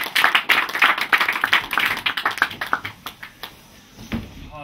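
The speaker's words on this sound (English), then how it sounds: "Let's give Rob a round of applause." A small audience at an improv comedy show in a bookstore café claps, a brisk burst of hand claps that thins out and fades to scattered claps, with no voices over it.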